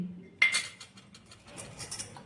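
Small steel toy kitchen utensils, including a little wok, clink and rattle as they are handled, a sharp metallic clatter followed by lighter scattered clinks, close and fairly quiet.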